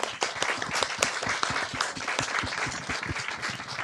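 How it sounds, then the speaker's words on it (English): An audience at a talk on Parkinson's disease breaks into applause, dense overlapping clapping from many hands, steady and fairly loud throughout, with no voices over it. "Can we give her a round of applause?"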